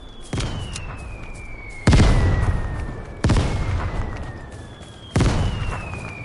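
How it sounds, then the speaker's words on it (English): Mortar explosions in a video game: four heavy booms land one after another at uneven intervals, each sharp and loud and then rumbling away, with a faint whine running behind them. "Good mortar."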